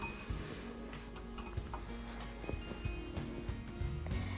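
Metal spoon clinking repeatedly against a bowl while rava (semolina) cake batter is stirred, light irregular taps close by over a low kitchen background, no talking.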